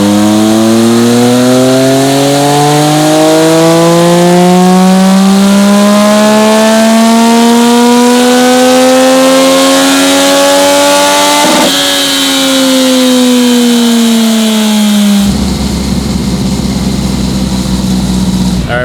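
A tuned motorcycle engine on a dyno, loud and close, winding up steadily in a long sweeping rev that climbs in pitch, briefly hitches, keeps rising, then drops abruptly to a rougher, lower tone near the end.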